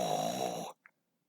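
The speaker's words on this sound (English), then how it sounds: "he hated sleeping in the same room with someone who snored." A single drawn-out snore with a rough, buzzing rattle, followed by a tiny breathy catch and then silence.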